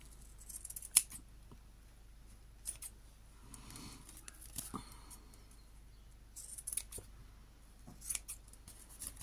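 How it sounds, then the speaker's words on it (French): Scissors trim excess paper from a scrapbook page. The snips are faint and sparse, with occasional soft cuts and rustles over a quiet background hum. "Évidemment, on va couper tout ce qui dépasse."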